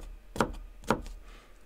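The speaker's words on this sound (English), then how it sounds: "Sometimes if I'm trying to get a slice, I'll take this and do the bias cut" A kitchen knife makes two crisp slicing cuts through a bell pepper on the bias, each a sharp close tap against the cutting board about half a second apart, with no talking.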